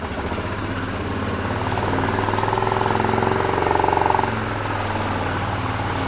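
A Grizzly ATV engine idles with the choke on, a steady mid-pitched rumble that swells slightly for a few seconds and then settles, heard close and alone.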